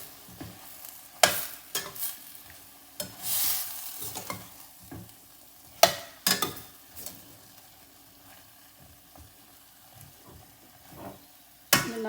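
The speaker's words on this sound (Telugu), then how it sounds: "ఇలా వంకాయలు ఇట్లా ఒక సైడు కుక్ అయ్యే కదా ఆయిల్ పట్టుకుని మళ్ళీ సెకండ్ అదర్ సైడ్ కూడా ఇలా మిక్స్ చేసేసుకోవాలి." Stuffed brinjals fry in oil for a curry as a spoon stirs and turns them, sending sharp scraping clatters and sizzling bursts at irregular intervals, close up with no talking.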